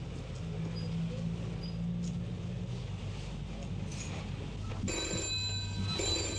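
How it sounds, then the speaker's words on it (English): A telephone in a 1973 Irish shop setting rings from about five seconds in, a bright electric bell over a murmuring room, with voices talking beneath it. "That's your phone."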